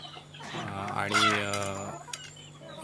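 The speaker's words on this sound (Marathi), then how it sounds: "आता काही कोंबडी बाहेर सोडलेत मोकळ्या वातावरणात" Backyard chickens let out in the open cluck steadily nearby, with one long, drawn-out call rising in the middle and softer clucks around it.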